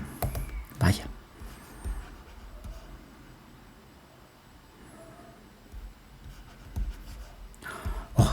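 Scratchy pen strokes on a board during a thermodynamics lecture, short irregular bursts of writing mixed with a lecturer's voice speaking nearby.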